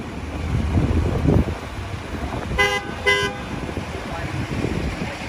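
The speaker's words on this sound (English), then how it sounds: "you cannot show the beauty of New York City traffic noises" Busy New York City street traffic rumbles steadily, and two short, bright car horn toots ring out in quick succession midway through.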